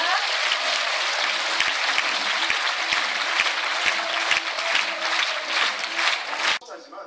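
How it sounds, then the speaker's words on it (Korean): A seminar audience in Dongsuwon gives loud, sustained applause, with dense clapping running for about six and a half seconds before cutting off sharply. "큰 박수로 맞아주시기 바랍니다"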